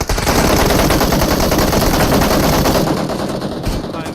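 Sustained rapid gunfire from a video game firefight, with dense automatic bursts rattling loudly and continuously before easing slightly near the end.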